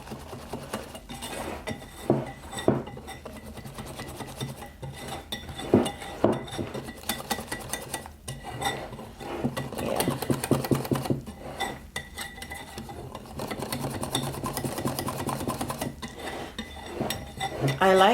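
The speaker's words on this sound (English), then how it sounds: "So I'm going to whisk in the water." Water is whisked into a garbanzo bean flour batter in a bowl, with a steady run of close clinks and scraping taps from the whisk against the bowl.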